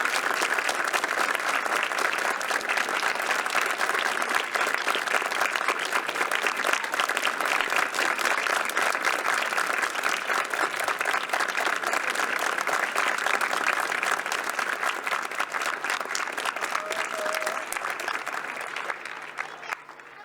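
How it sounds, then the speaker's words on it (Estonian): An audience at a spring festival concert applauds warmly, a dense, sustained clapping that holds steady for about twenty seconds before tapering off at the end. "suur-suur aplaus"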